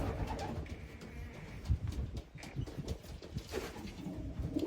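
Racing pigeons coo softly in a loft, low repeated throaty coos close by and fairly quiet, with faint shuffling and rustling in the background.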